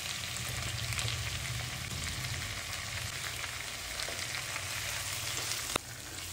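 Masala spices fry in a kadai with a steady, dense sizzle and crackle that holds evenly throughout, broken by one faint clink near the end, without any speech.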